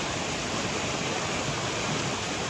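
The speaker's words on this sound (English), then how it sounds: "The water is running so heavily." A river flooded by Hurricane Beryl in Jamaica rushes heavily, a steady, dense roar of fast water that fills the whole stretch without pause and with no voices.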